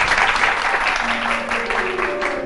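A studio audience claps for the green contestant on a Pakistani morning show, dense, steady and fairly loud applause from a crowd, with a voice faintly beneath.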